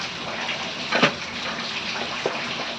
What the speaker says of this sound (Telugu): నీళ్ళు ఎక్కువ పోసుకోకూడదు, తక్కువ పోసుకోవాలి.